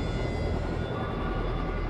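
The 1,300-horsepower engine of a UH-1 Huey helicopter at work in logging, a loud, continuous broadband roar with a steady droning tone and no pauses.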